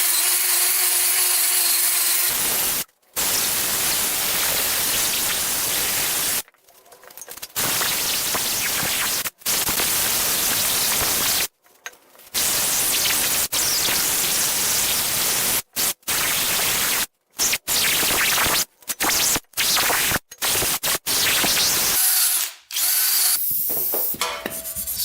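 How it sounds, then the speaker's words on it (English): Wire wheel on a power tool scrubbing heavy rust off the exhaust pipe of a Yamaha Raptor 700 ATV: a loud harsh whirring grind in long stretches broken by brief stops, close up and without talk. "I'm gonna take a wire wheel, just kind of clean up that rust."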